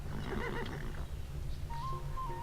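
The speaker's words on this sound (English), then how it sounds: "A horse. A horse. My kingdom for a horse." A horse whinnies in Civilization V, a rising whinny in the first second followed by faint, thin tonal calls, all over a steady low hum of game background noise.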